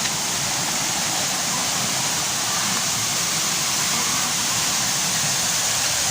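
Liman waterfall in Bulan, Sorsogon pours in a constant, full rushing roar, close and loud with no break.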